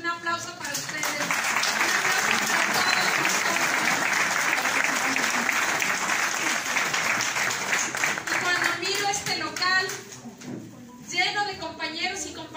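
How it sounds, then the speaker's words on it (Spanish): An audience packing a political meeting hall breaks into sustained, loud applause mixed with cheering, which tapers off after about ten seconds as a voice resumes speaking. "Un aplauso para ustedes."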